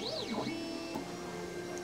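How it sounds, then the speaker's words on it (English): Ultimaker 2 3D printer starting a print, with sweeping, rising and falling motor tones, then a steady hum settling in close and alone. "The printer will now begin heating up, preparing to print the Ultimaker robot."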